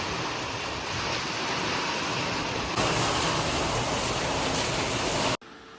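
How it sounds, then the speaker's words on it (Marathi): Heavy rain with lightning pours down in a dense, steady roar over Talegaon Dabhade, cutting off abruptly near the end. "विजांच्या कडकडाटासह तळेगाव दाभाडेमध्ये जोरदार पावसाने हजेरी लावलेली आहे."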